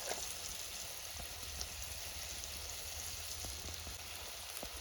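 Green chillies sizzling in hot tempering oil in a village kitchen, a steady close crackle and hiss with scattered small pops, continuous and even with no talk.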